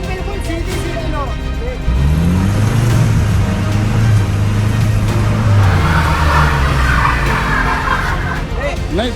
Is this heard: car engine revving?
yes